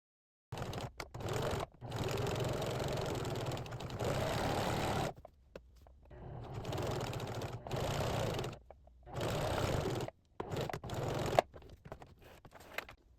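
Sewing machine stitching fabric for tailoring, a steady close mechanical whirring in several sustained runs of a few seconds each, separated by short silent pauses, with a brief bump near the end.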